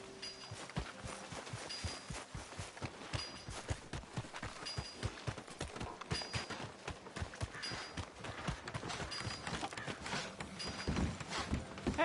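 Horse hooves clop in a steady walking rhythm on hard ground throughout, close and clear, with faint game-like ambience behind.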